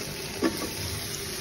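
Potatoes hit a hot pan with fish and sizzle as they are sautéed, a brief stirring scrape over a steady, close frying hiss.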